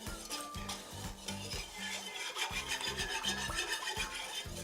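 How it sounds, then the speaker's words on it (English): A utensil scrapes browned bits from the bottom of a gravy pan with chicken stock, a close, rhythmic series of gritty strokes repeating steadily throughout. "Go ahead and try and scrape those up."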